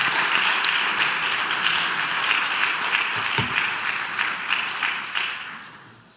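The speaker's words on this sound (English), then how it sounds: "Please join in applause and welcoming these two wonderful members of our community to this." A crowd at a Reform Judaism plenary session applauds steadily, a dense wash of clapping that tapers off toward the end.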